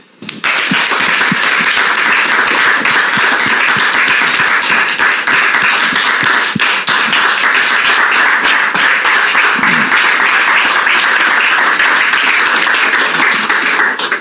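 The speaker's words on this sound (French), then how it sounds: "Merci pour vos applaudissements." A studio audience applauds to welcome a woman guest onto a French-language talk show, the clapping dense, loud and steady throughout, with no voices over it.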